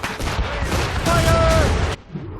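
Ship cannon fire in Assassin's Creed Rogue booms loud and close in a rapid cluster of blasts, with voices shouting over it until it cuts off abruptly near the end.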